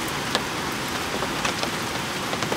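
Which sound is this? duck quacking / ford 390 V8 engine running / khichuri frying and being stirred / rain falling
rain falling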